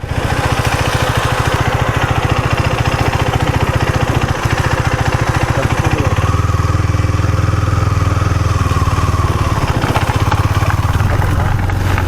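A KTM Duke 390 motorcycle engine idles steadily up close, its rapid thumping pulse continuous throughout, with the radiator fan's whir joining partway through and adding a low hum.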